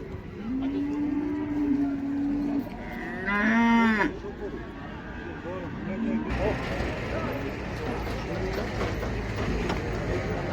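Five-month-old young bull calves at the Taraz livestock market give a long, drawn-out moo followed by a shorter, rising call, close by, amid general market bustle and people talking.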